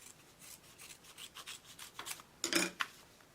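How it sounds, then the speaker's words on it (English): Scissors trim away excess quilt fabric in a few soft, close snipping and rubbing strokes that end in a sharper pair of cuts, faint and without talking. "I'm going to trim away the excess here"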